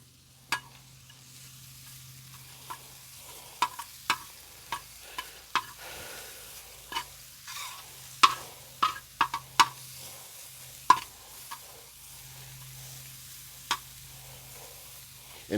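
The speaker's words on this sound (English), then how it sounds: "And we're going to saute these for a while" Onions sauté on a recteq Matador griddle beside leftover shrimp juices, giving a faint, steady sizzle punctuated by sparse, sharp spatula clicks and scrapes that come in irregular bursts.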